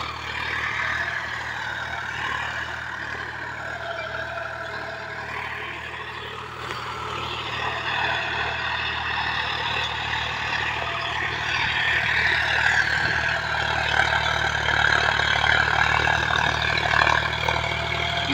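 A John Deere 5105 tractor engine runs steadily for the whole stretch while ploughing, a loud continuous drone with a steady low hum, rising slightly in level toward the end.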